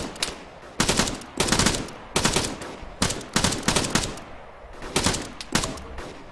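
Gunfire in a video game comes in quick bursts of sharp, loud shots, repeated at irregular intervals with brief pauses between them.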